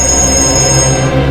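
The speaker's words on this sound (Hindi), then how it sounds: "एक मिनट, फोन आ रहा है।" Mobile phone rings with a loud, steady electronic tone, sounding close and continuous for just over a second with no talk.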